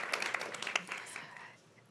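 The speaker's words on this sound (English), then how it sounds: "Yes, he does deserve applause." Audience applause greets a conference guest, a brief burst of clapping that quickly thins and fades away, with a voice speaking over it.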